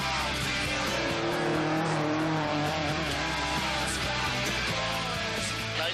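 A Mk1 Ford Escort RS1600 rally car driven sideways, its engine roaring loud and continuous with rising and falling revs and hints of tyre scrabble, close and filling the whole stretch.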